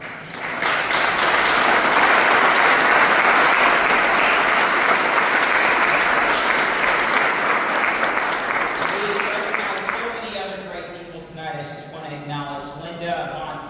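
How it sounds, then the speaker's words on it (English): A large crowd at a Hall of Fame induction and Black History Month celebration gives a loud, full round of applause for an honoree, which gradually tapers off as a voice and tonal sounds take over. "I think we owe it to Cedric to give him a round of applause."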